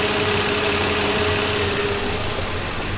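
A running car engine idles during a battery charging test, a steady, loud, even hum with a constant low drone that holds unchanged throughout, with no talking.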